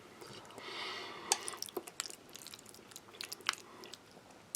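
Close wet chewing and soft crunchy bites of greasy pearl barley from a Ukrainian army ration, with moist squishy mouth sounds and small clicks, no talking.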